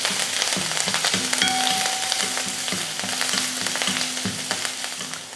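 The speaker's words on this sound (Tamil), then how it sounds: "அதில் வெங்காயம் சேர்த்துடலாம். பச்சை மிளகாய், கொஞ்சம் கருவேப்பிலை, கொஞ்சம் மல்லித்தலை. இப்போ இதை வதக்கிக்கலாம்." Onion, green chilli, curry leaves and coriander sautéing in hot oil, a close steady sizzle broken by repeated spoon scrapes against the pan, no voices.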